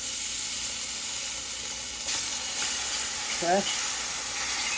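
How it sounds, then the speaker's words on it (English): Bologna slices fry in a pan with a steady, even sizzle and hiss throughout, close and continuous, while a voice briefly speaks over it. "We're going to let this bologna fry up, guys."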